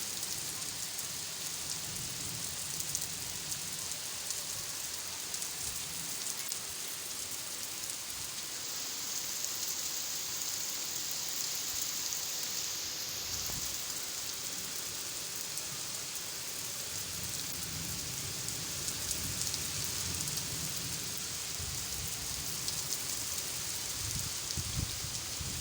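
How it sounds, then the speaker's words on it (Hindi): Heavy rain pours steadily over a village, a dense, continuous hiss of drops hitting surfaces that runs unbroken for the whole stretch with no voices. "और 4 बजे फिर इतनी ज़्यादा तेज़ बारिश आ गई"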